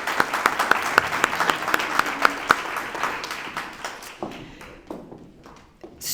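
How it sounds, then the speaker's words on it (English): An audience at a Tucson Rotary character awards ceremony applauds, with a crowd of hands clapping steadily and loudly for several seconds before thinning out and tapering into scattered claps. "So let's give her a round of applause."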